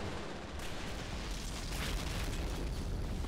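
Offshore bombardment ships shell the coast in a World War II shooter game, the artillery blasts merging into a dense, continuous roar of rumbling booms and distant explosions with no voices.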